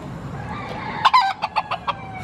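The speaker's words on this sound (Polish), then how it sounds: "No nie, kukuryku robi." A rooster wanders among outdoor cafe tables in Porto and crows nearby, a loud drawn-out call followed by a string of short, evenly spaced clucking notes over faint background murmur.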